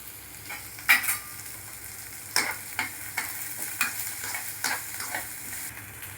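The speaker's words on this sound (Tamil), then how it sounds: "நல்லா வெங்காயம் வதங்கிட்டோம்" Chopped onions, curry leaves and three dried red chillies sizzle steadily in a pan, cut by a series of scraping spatula strokes and clinks that repeat roughly every half second, close and clear with no talking.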